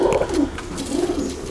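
Pigeons cooing close by in a loft, soft low burbling calls repeating in overlapping waves, with faint rustling behind.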